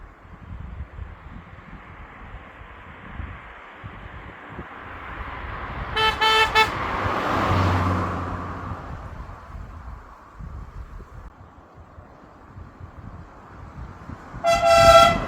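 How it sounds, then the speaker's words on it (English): Air horns fitted to a small Peugeot car give two loud, brassy blasts several seconds apart, standing out sharply over a low background of engine and road noise. "do I think the air horns are worth it?"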